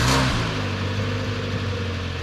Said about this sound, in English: I'll jump in, and we need to get a cold start.